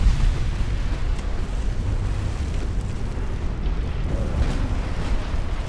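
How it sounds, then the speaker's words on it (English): A warship's magazine detonates in Ultimate Admiral: Dreadnoughts, heard as a deep, rumbling explosive roar that stays heavy and sustained throughout, with low booming swells and no voices. "Connecticut's magazine just detonated"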